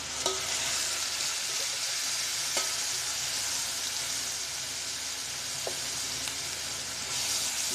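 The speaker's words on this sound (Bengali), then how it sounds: "ভর্তাটা ভালোভাবে ভাজা ভাজা করে নিলাম" Ground spice paste fries with onions in a pan, making a steady, close sizzle and crackle throughout, with a few faint scraping stirs and no talking.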